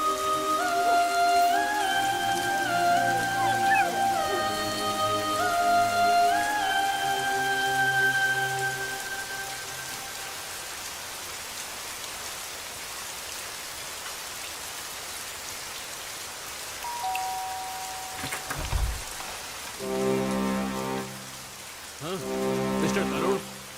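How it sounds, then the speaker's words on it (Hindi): Steady rain falls through the whole stretch, a dense even patter behind sustained musical tones that fade midway, with a few sharper knocks near the end. "इसने पूरी रात बाहर बांध दिया और बारिश में भीग गया अपना डिंगा।"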